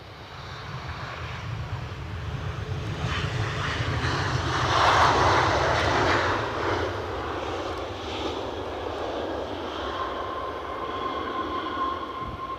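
A Norwegian airliner from Oslo passes at windy Edinburgh Airport. Its jet engine roar rises to a peak near the middle, then eases into a steady rumble with a thin whine.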